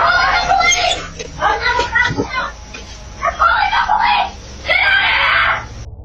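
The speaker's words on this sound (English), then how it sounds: "We can hear her screams inside the house." A woman screams inside her house while men try her locked door at night, her repeated loud, wavering cries heard from indoors over background noise.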